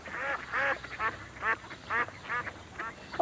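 A duck quacks six times in a steady rhythm of clear, nasal calls, fairly close and alone.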